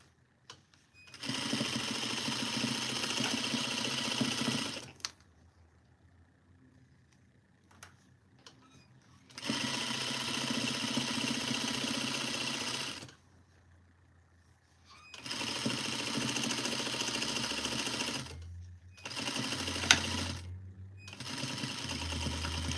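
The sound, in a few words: sewing machine stitching a duster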